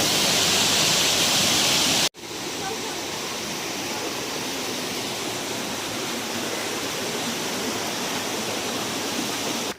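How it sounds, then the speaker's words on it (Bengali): Water rushing steadily toward a lake on Ayodhya Hill in Purulia, a close, constant broadband roar that cuts briefly after two seconds and then continues evenly. "ওয়াটার ভিউ এই জল চলে যাচ্ছে সোজা একদম লেকে"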